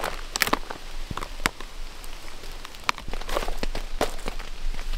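Rain patters steadily on a forest bivouac during a thunderstorm, with scattered drops tapping close by over a constant soft hiss.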